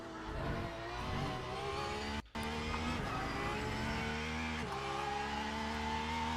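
LMGT3 race car engine in Le Mans Ultimate at Fuji, droning steadily with layered harmonic whine, a brief cut near the middle as the car shifts or lifts, then holding a constant high revving tone.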